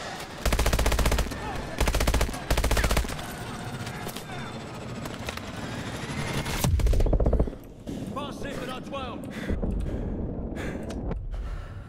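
Loud bursts of automatic gunfire in a Call of Duty Advanced Warfare battle aboard an aircraft carrier hangar deck, several heavy volleys separated by quieter stretches, with a voice briefly heard amid the shooting.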